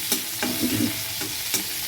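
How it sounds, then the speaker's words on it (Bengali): Onions frying in a pan with salt, stirred so that several distinct spatula scrapes and clatters rise over a low, steady sizzle, close and fairly loud. "দেখবেন খুব তাড়াতাড়ি ভাজা হয়ে যাচ্ছে পেঁয়াজটা"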